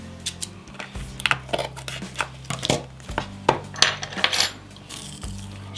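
Apple AirTag retail packaging being pried and torn open by hand, with a series of sharp crinkly crackles, snaps and tapping clicks over a low steady hum, fairly close and moderately loud.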